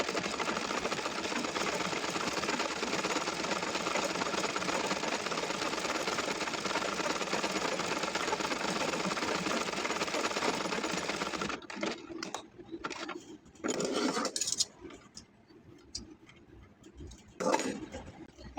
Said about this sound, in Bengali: এখন সেলার এলাস্টিকের জন্য এলাস্টিকের উপর সেলাই দিচ্ছি